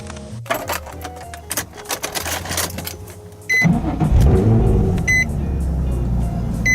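A Nissan 350Z drives along back roads. First comes a series of close clicks and mechanical taps, then a low, steady engine rumble with road noise from inside the car.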